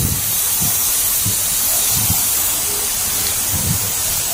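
Spray gun laying a full final clear coat over an MG Comet car body, a steady close airy hiss running throughout with faint low thumps beneath.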